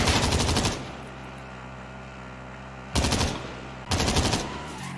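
Rapid automatic gunfire in the video game Call of Duty Warzone, Plunder mode: three loud, close bursts separated by quiet gaps.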